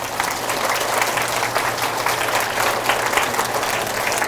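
Steady, dense applause from an audience of elderly parishioners at a Catholic church mission talk, sustained and fairly loud throughout with no pauses.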